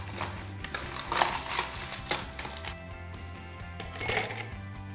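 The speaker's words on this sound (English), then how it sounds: "Now time for some ice." Ice cubes clink and rattle into a glass holding an Airmail cocktail of rum, honey and champagne, a few quiet, scattered knocks and chinks with no talking.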